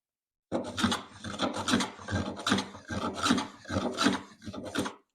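Stanley No. 4 smooth plane taking passes along a rough sawn wood edge, striking the high spots: about eight rasping, scraping strokes in an uneven rhythm, close and fairly loud, with brief gaps between passes.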